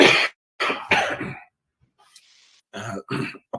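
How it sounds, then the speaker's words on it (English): A person with the flu coughs and clears their throat in a quick series of close, harsh bursts, each separated by brief silence. "I'll be coughing now and again"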